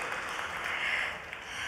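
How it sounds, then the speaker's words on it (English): Audience applause at a maritime industry awards ceremony, a steady wash of clapping from a crowd, moderately loud and continuous without speech. "Let's welcome him with a big round of applause."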